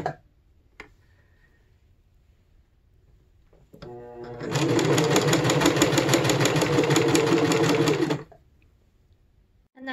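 Sewing machine stitching along the edges of embroidered Tudor-style cuffs, a steady fast mechanical whir and rattle lasting about four seconds, with faint clicks before and after.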